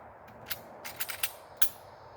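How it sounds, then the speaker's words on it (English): Metal parts of a Glock 43 pistol clicking and clanking together during reassembly, about five sharp, close mechanical snaps spread over two seconds against a quiet room. "Let me put this gun back together."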